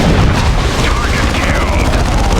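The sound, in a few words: missile hits on a Predator tank in the video game Dawn of War II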